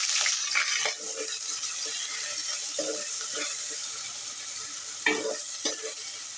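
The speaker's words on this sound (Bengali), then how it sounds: "এখানে আমি হচ্ছে পেঁয়াজ বাটা আর হচ্ছে আদা রসুন যেটা বেটে রাখছি এটা দিয়ে দিব" Onion paste and ginger-garlic paste sizzle in a hot pan for a chicken and taro curry, a steady close frying hiss with scraping stir strokes and occasional louder clatters, no talking.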